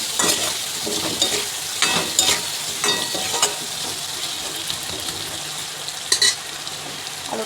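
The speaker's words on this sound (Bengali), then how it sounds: "আলুটা ভাজা হোক।" Potato pieces frying with turmeric and salt in a home kitchen pan, a close, steady sizzle broken by bursts of stirring and scraping as the potatoes are turned, with no voices.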